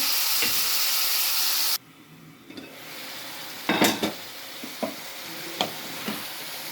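Brinjal and potato pieces fry and get stirred in a pan: a loud broadband sizzle that drops abruptly partway, then returns with scraping stirs and several sharp spoon knocks, no talking.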